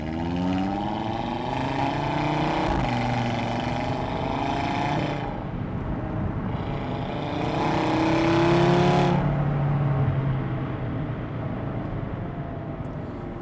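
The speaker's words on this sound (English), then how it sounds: "free, happy revving car." A 2018 Audi RS3 Quattro's engine revs and pulls continuously, its exhaust rising and falling in a loud, sustained drone heard from on board.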